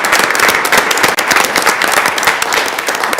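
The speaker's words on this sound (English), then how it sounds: "So we do have some of our new staff here today with us, so round of applause for them" Loud, close round of applause at a school board of education meeting welcoming new staff, many crisp overlapping claps forming a dense, even patter for a few seconds.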